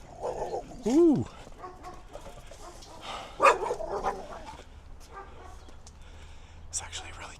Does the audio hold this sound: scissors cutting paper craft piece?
no